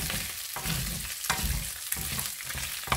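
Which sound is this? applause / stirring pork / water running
stirring pork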